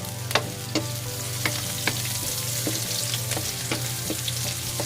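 Garlic fries in a pan with a constant soft sizzle, close but fairly quiet, broken by occasional sharp clicks and taps of a utensil against the pan.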